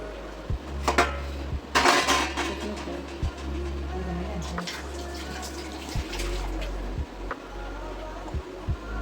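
A metal plate being wiped clean in a kitchen, with scattered clinks and scrapes of dishes and a soft running background hum, a voice speaking over it.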